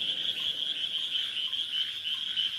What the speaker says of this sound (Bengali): এই ব্যাঙ আর ঝিঝির কোলাহলের মধ্যে।